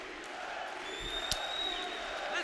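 Crowd noise at a kickboxing tournament match, a continuous roar from a large arena audience with a few sharp thuds and whistles rising through it.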